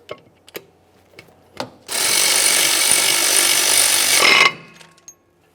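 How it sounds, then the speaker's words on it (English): Rear brake caliper banjo bolt on a 2001-2005 Ford Explorer Sport Trac being snugged down with a power tool, a loud steady whirring burst of about two and a half seconds between a few light clicks and taps. "Now we can snug that banjo bolt."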